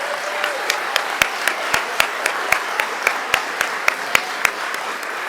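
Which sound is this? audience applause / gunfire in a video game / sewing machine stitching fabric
audience applause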